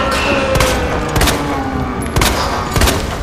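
Pistol shots in Resident Evil 2 Remake, four loud, close reports spaced unevenly about half a second to a second apart, each a sharp crack over a continuous background of game ambience.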